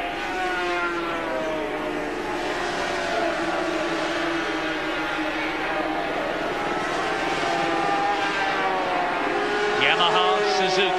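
500cc Yamaha and Suzuki racing motorcycles at the 1979 British Grand Prix at Silverstone scream past at high speed, their engine notes rising and falling continuously under an excited commentator's voice.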